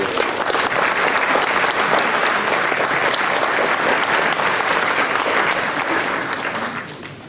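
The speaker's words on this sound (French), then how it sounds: "Oui, vous pouvez applaudir" An audience at a mayor's New Year greetings ceremony breaks into sustained, loud applause from many hands, a thick even roar of clapping that tapers off at the very end.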